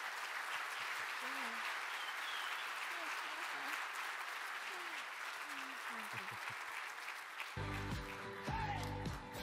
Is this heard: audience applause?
yes